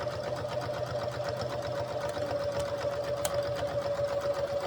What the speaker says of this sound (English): Carry on stitching it. Go till the end.